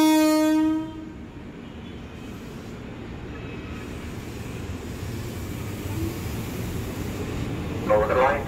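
A KRL Commuter Line electric train at Manggarai station sounds a short, loud horn blast, then pulls away with a rising rumble of motors and wheels building steadily, a brief high squeal near the end.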